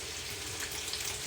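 Bacon frying in a pan gives off a steady, close hiss and crackle of sizzling fat, continuous and alone without any voices.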